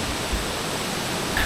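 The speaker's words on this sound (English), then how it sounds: "That was a cool waterfall" A waterfall on a tour near the Korean DMZ gives a steady, dense rushing roar that fills the whole moment without a break, fairly loud and close, with no voices.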